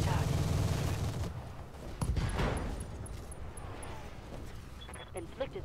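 Mech weapons fire in the video game Roguetech, a burst of overlapping gunfire and blasts at the start, then a second volley followed by fading rumbling impacts.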